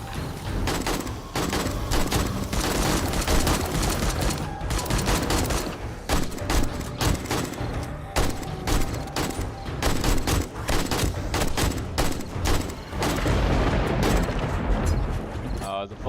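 Sustained automatic rifle fire from an AK in a video game, dense rapid bursts running almost continuously with brief gaps, loud and close, with explosions and a voice mixed in.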